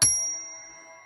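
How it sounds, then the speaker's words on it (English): A single bell is struck once, a bright close ding that rings on and fades slowly over about a second, with no voices. "I'm going to ring this bell."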